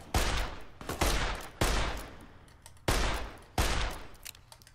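Bursts of gunfire in Fallout: New Vegas, several loud volleys of rapid shots arriving in separate waves with short gaps between them, close and dominant.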